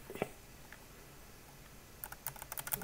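Light, quiet keyboard typing on a computer while entering measurements, a short patter of rapid key clicks near the end after a stretch of near silence, close but faint.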